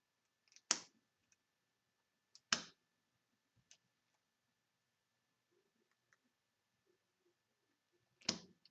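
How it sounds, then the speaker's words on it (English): Playing cards drawn one at a time from a deck in a print-and-play solitaire card game, a few crisp close slides and flicks spaced seconds apart in a quiet room. "So then I draw 4 more cards off of the Neurosis deck."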